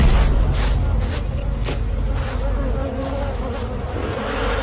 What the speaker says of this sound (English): Bees sting to defend the hive